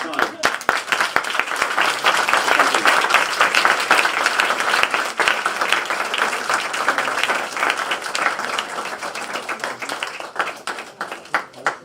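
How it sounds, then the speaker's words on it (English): An audience applauds economist Professor Jeffrey Sachs at a lecture, with loud, crisp, rapid clapping sustained for several seconds before gradually thinning out. "I hope we can give a big round of applause to Professor Sachs for taking the time."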